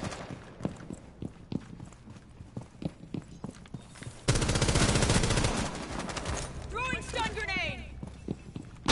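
Video game gunfire arrives as a run of sharp, quick shots under a talking player, then a dense burst of rapid fire, with chirping sounds and more talk after.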